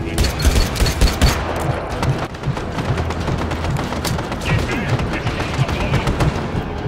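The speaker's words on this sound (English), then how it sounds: "I don't like this burst fire gun." A burst-fire gun shoots in Just Cause 3, loud and close, with rapid clustered volleys cracking one after another over a constant battle din.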